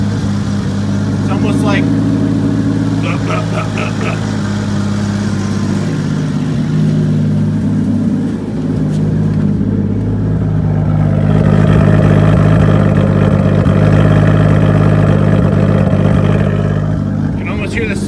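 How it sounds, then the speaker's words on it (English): A car engine idles up close with a slight miss, a steady, loud drone with an uneven pulse in it, while someone speaks briefly over the running motor. "You hear how the idle changed?"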